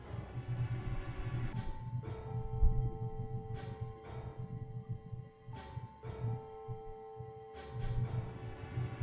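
A heartbeat sound effect from the video game Virtue's Last Reward, a low throbbing pulse repeating steadily under a faint electronic hum and tones, with no talk.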